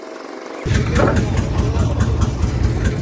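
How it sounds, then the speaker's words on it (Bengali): A trawler boat's engine crossing a river starts after a brief quiet moment, then settles into a loud, steady, low diesel rumble heard up close. "তো গাইজ এখন আমি নদী পার হব ট্রলারে করে।"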